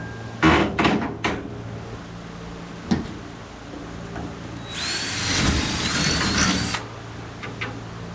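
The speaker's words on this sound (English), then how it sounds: "We got to drill one more hole right here, right yonder." A power drill bores a hole for a bracket on a 5-ton crew cab truck in a shop, running in a loud two-second burst after several sharp metallic clanks and knocks.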